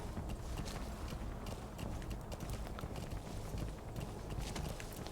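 Horse hooves in Metal Gear Solid V pound in a fast, steady galloping rhythm, close and continuous, with a dense rumble underneath and no voices.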